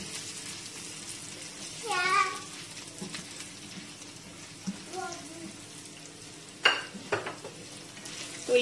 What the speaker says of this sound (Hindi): तो ये सब अच्छा से फ्राई हो गया है